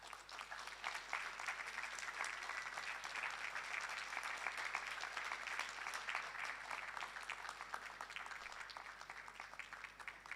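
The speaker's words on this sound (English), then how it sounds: "let's just give them a round of applause" Sustained applause from a graduation ceremony audience, a dense, even wash of many hands clapping that holds steady for about ten seconds, moderately distant, with no voices over it.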